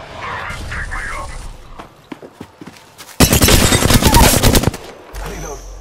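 Sustained automatic gunfire in Apex Legends Season 10, played as Bloodhound, erupts as one loud rapid burst of over a second in the middle, with quieter game sounds and character voice lines before and after.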